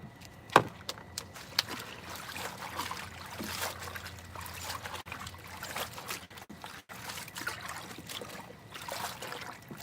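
Freshly harvested produce is sloshed and swished in water, a soft continuous trickling and splashing with a sharp knock near the start, close and quiet.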